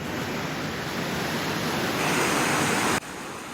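A river swollen and widened after Hurricane Helene rushes in a loud, steady broadband roar close to the microphone, constant throughout with a slight dip near the end and no voices.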